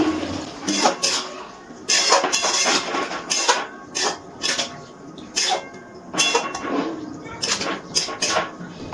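Grated carrots fry in a pan for goulash while someone stirs them, giving close, repeated scraping and clattering strokes in a steady rhythm over about nine seconds, with no speech.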